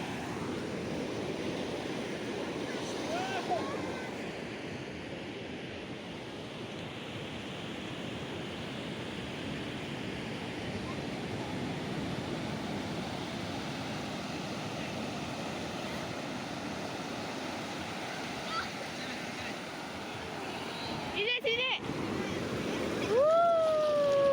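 Surf on the beach at Kemiren, Cilacap washes in steadily as a broad, continuous roar with some wind buffeting the microphone, fairly constant throughout with a brief louder disturbance near the end.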